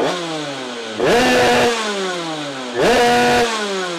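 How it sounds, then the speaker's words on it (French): A small scooter engine with a Keihin PWK carburettor idles, then revs up sharply twice, each burst climbing in pitch before dropping back to a buzzing idle. "Là tout de suite, tu vas entendre le moteur, il prend ses tours."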